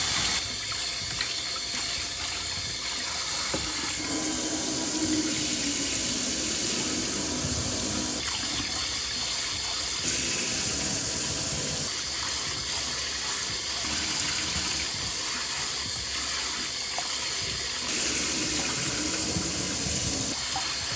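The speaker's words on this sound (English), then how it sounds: "we are just going to wash this rice with our hands until this water runs clear" Thai jasmine rice being rinsed by hand in a sink under a running tap, a steady close stream of water with sloshing and swirling as grains are rubbed, continuous without talk.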